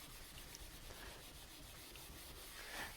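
Close, soft scrubbing of a pad across a glass stove top, working at tough grime on a burner, a steady rasping rub with no voices.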